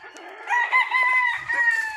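A rooster crows close by, one drawn-out, rising and falling call lasting about two seconds, clear against a quiet background.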